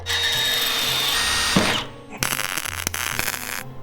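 A power drill whines steadily and loudly, stops briefly, then bites again with a rougher, grinding buzz as it drills a hole during repair work on a 1983 Toyota Trekker.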